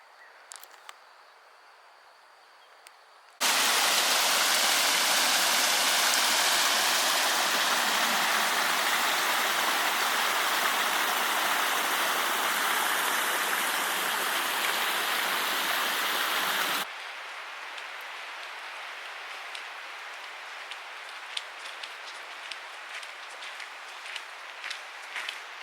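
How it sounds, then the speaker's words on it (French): On a trek in the Monédières, Corrèze, a sudden, heavy downpour of steady rain hisses loudly for several seconds, then drops off to a lighter patter with scattered drops. "Ça y est, la pluie est là."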